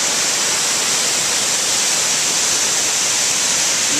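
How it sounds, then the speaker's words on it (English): Water rushing steadily over a small spillway at the old Hendersonville Reservoir, a loud, unbroken, close roar with no voices. "Little spillway."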